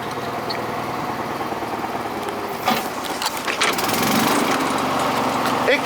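A Bolens GroundsKeeper lawn tractor engine runs after a cold start, a close, steady buzzing drone with a brief rough surge midway, then a slightly louder, fuller running note.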